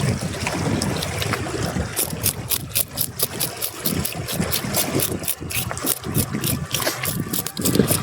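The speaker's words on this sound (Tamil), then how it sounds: "ஜம்முன்னு ஜில்லுன்னு காற்று வருது மக்களே" Wind blowing along the Bhavani Sagar riverside near the Kotagiri hills, a continuous rushing buffet across the mic with a run of sharp rhythmic ticks in the second half.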